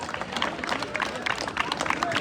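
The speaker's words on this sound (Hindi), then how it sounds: "जोरदार तालियां हो जाए चंबा कारवा के लिए" A crowd at a football tournament closing ceremony claps and cheers, a dense continuous wash of applause with voices mixed in throughout.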